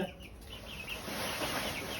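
Native desi chickens cluck softly in a steady low murmur on a rooftop farm, a few birds close by against constant outdoor background noise.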